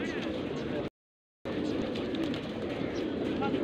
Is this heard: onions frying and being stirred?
no